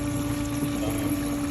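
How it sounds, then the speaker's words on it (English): A boat livewell's venturi system pulls in water and pumps bubbles, producing a steady, close pump hum with a continuous watery rush and gurgle. "It's sucking water in. It comes down this bilge, and you can see how it pumps a massive amount of bubbles in there"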